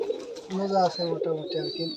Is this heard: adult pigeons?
yes